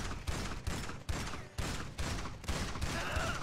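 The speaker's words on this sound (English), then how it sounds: "I am shooting him." Rapid gunfire bursts in GTA Online, a series of loud sharp shots in quick succession, some rhythmic like an assault shotgun, close and dominant with no talk over them.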